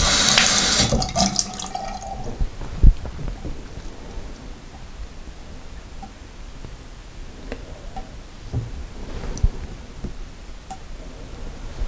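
Water runs steadily from a kitchen faucet that has just been turned back on after a leak repair, a continuous close hiss and splash into the sink with a few faint knocks and clicks.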